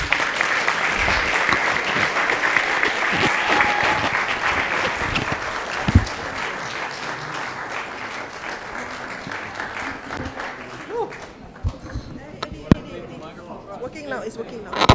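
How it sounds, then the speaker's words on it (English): Audience applause for a lion dance troupe at a gathering, a loud, dense wash of clapping that carries on through most of the stretch before thinning out into scattered claps and stirring near the end. "A big applause for them."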